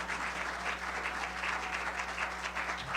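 Steady applause from a church congregation, dense and continuous throughout at an even level, with a low hum underneath and no clear talking.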